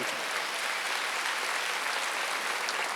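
Congregation applauding during a Wednesday church service, a dense steady clatter of many hands clapping evenly at moderate loudness for the whole stretch.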